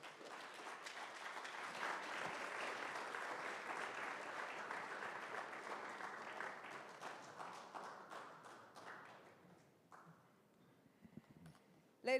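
Audience applause at a Caribbean community resilience fund event, a dense sustained clapping from a crowd that stays loud for about nine seconds, then thins into scattered claps and fades out.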